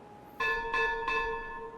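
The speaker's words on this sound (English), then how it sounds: "besides the dangly bells over there, they looked really cool" Dangly bells in Timberborn chime three times in a steady rhythm, clear and bright with a lingering ring after each strike.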